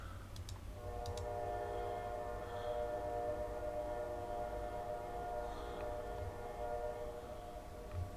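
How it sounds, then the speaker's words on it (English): A long, steady train horn blares throughout, a sustained multi-tone drone with the low rumble of a train beneath it. "train, can you stop honking your horn?"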